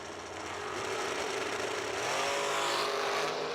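Race cars at a summer fling racing event roar steadily and loudly throughout, the engine noise swelling as the pack passes close by.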